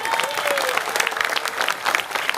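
Audience applause at a religious talk in Indonesia, a dense, steady wash of many hands clapping throughout, fairly loud and continuous with a faint voice underneath.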